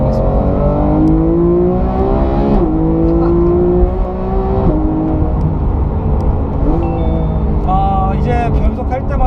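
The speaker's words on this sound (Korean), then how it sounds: "지금부터는 PDK 스포츠로 변환을 하고 주행을 시작해보겠습니다." A Porsche 911 GT3 with a seven-speed PDK gearbox in sport mode accelerates hard, its engine note climbing in loud rising sweeps broken by quick upshifts, close and continuous.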